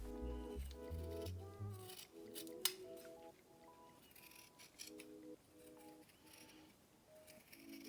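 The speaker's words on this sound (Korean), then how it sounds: "넥밴드는 동그랗게 굴러가는 부분만 시접을 5mm가 되게 잘라주세요" Scissors snip the seam allowance of a fleece neckband, a run of crisp close cuts and slides in an uneven rhythm, heard under soft background music with no talking.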